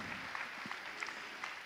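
A church congregation applauding after a scripture reading, a steady wash of clapping from many hands, moderately soft and continuous through the short moment.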